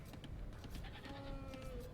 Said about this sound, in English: picks up his last 2 goats there